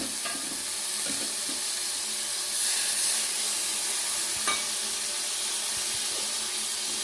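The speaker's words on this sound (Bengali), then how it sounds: "পেঁয়াজ টমাটো দুটোই ভাজা ভাজা হয়ে গেছে মশলাটা দিয়ে দেবো" Spices frying with onion and tomato in a pan, giving a steady, even sizzle with faint stirring scrapes, close and continuous, with no voices.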